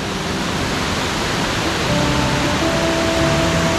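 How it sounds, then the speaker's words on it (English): A big waterfall in the Colorado Rocky Mountains roars close by as a loud, steady broadband rush that fills the whole stretch evenly, with no voices. "We're at the falls right now."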